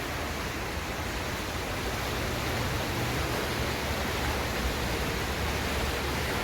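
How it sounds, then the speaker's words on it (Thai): Water rushes in a steady, unbroken wash of noise from a clear mountain stream in Germany flowing nearby. No voices are heard. "น้ำไหลลงมาจากเขา"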